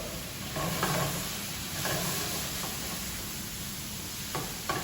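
Food sizzles steadily in a pan with black pepper while a spatula stirs and scrapes it now and then, making soft knocks over the constant frying hiss.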